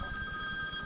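Telephone ringing with a bright, steady electronic ringtone tone, continuous and fairly close across the short stretch, with no talking over it.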